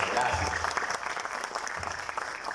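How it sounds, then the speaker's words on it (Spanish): Steady applause from an audience at an award ceremony fills the whole stretch, a dense even clatter of clapping hands with some voices mixed in. "vamos a volver a dar un aplauso"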